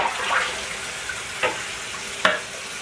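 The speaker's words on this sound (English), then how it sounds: "Rinse it out and put it up there with the rest of them." A dish is rinsed under a running kitchen tap: a steady hiss of flowing water with a few brief knocks and splashes as it is handled, close by and fairly quiet.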